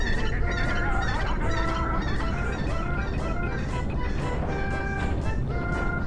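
Cuckoo chickens in the video game The Legend of Zelda: Twilight Princess on GameCube cluck and squawk in a steady, dense chorus over game music, continuous and fairly loud throughout.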